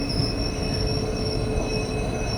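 A passenger train rolls over the rail lines toward a platform, a steady loud rumble of wheels on track with faint high squeal tones running throughout, no voices.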